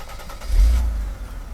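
A Mercedes R129 300SL with the M104 engine hot-starts and revs: a short crank catches into a loud low roar that swells quickly, then eases back toward idle, heard up close with no talk.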